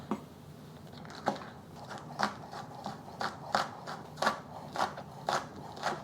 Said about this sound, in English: I have 1 green onion. I'm just gonna chop this up.